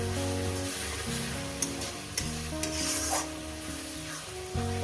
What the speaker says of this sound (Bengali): এরপর এটাকে আমি কষিয়ে নেবো যতক্ষণ না মশলা থেকে একটু তেলটা আলাদা হয়ে যাচ্ছে